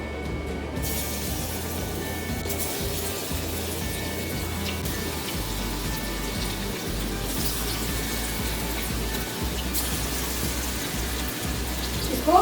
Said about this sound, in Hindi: ऑयल हमारा अच्छे से गर्म हो चुका है। अब हम इसमें पकौड़े डालते हैं।